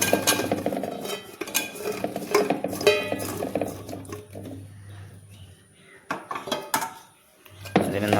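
Nutmeg pickle being stirred in a bowl, with repeated spoon clinks and scrapes against the dish in uneven bursts, close and fairly loud, easing into quieter pauses.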